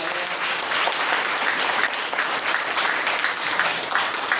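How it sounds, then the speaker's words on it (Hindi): A loud, sustained burst of applause from an audience at a Save Soil event, with dense clapping throughout and no voices rising above it. "पर इनके लिए एक जोरदार तालियां।"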